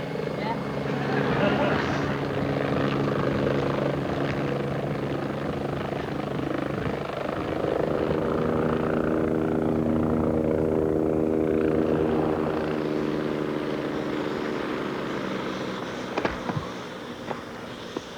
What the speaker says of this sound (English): we've arranged this helicopter specially for you